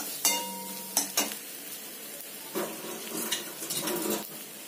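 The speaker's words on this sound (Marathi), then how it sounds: "तेलामध्ये थोडा वेळ परतवून घेणार आहोत।" Red chili powder and spices sautéed in hot oil for a mixed vegetable dish, heard as a soft sizzle with several sharp spoon scrapes and stirring clatters against the pan, close by and with no talk.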